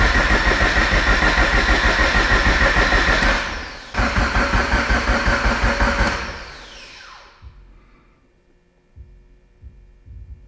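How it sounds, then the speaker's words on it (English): A Mitsubishi Evo engine cranks over on the starter with a loud, rapid rhythmic churning, pausing briefly and resuming before winding down into quiet. "I'm gonna crank it till we see something on the oil pressure gauge"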